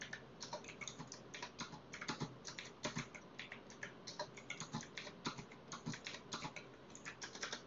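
Steady, fast typing of code on a computer keyboard, a continuous run of crisp key clicks at an even rhythm, close and alone without talk.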